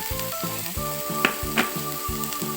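Glass noodles with chicken breast sizzle as they are stir-fried in a pan, with a steady frying hiss, two sharp scraping clinks of a utensil, and background music throughout.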